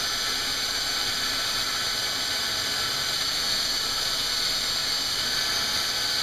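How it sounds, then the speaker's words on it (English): Metal surface faced on a 100 grit belt with a Wuertz Machine Works surface grinding attachment on a belt grinder, a loud, constant high-pitched grinding hiss with a steady motor drone throughout and no talk. "This is a 100 grit belt, and I'm just going to face this surface."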